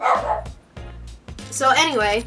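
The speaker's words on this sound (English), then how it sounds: "Excuse my dogs." Pet dogs bark and yip loudly up close in several sharp bursts, with a whimpering yelp, while a person talks over them.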